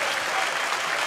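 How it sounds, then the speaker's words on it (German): Sustained applause from a carnival audience at a Cologne carnival proclamation event, a dense, steady roar of many clapping hands with no pauses. "Das tut gut, mal wieder so einen Applaus zu hören."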